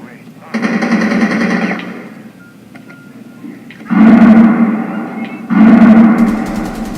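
Automatic gunfire in the video game Rainbow Six Siege comes in three loud sustained bursts separated by quieter gaps, close and dominant in the mix.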